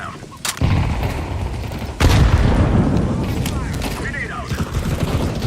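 Decoy grenade in a first-person shooter mimicking gunfire: sharp bursts of shots and booms, the heaviest near the start and about two seconds in, then a rumbling mix of shooting and game noise with a voice talking over it.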